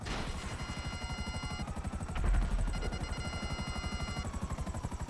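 Helicopter in GTA Online, a steady rapid rotor chop with a whining turbine tone, close and continuous, swelling briefly in the middle.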